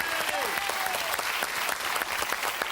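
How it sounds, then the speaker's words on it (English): Enthusiastic studio audience applause for a children's choir on a Christmas TV music quiz show, dense and loud clapping throughout with a brief voice heard at the start. "Can we please have a round of applause for our two lots of children"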